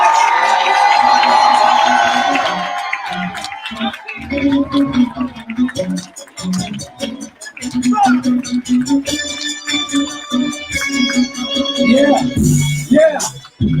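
A live audience at a financial event cheers, whoops and applauds for an introduced guest, a loud burst of crowd noise that thins into scattered clapping and shouts while an announcer keeps talking over it.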